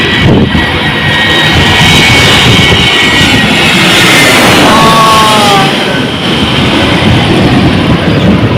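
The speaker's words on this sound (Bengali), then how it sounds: "একটা জেট বিমান উঠছে" A jet airplane climbs overhead near Dalipara, its loud, steady engine roar filling the air throughout with a broad rushing noise and a high whine.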